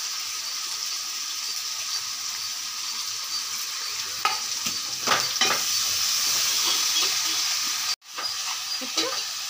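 Coriander stems and curry leaves going into sambar, a continuous sizzle and bubbling with a few stirring clatters near the middle and a brief cut-out toward the end.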